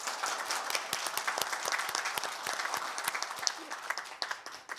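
An audience applauds at a political event on fair market competition, with dense continuous clapping from many hands that stays steady and fades slightly at the end.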